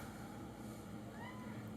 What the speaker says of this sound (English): got a hungry kitty to deal with first.